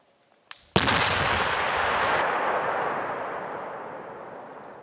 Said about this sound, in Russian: парашютисты-десантники авиалесоохраны устраивают взрывы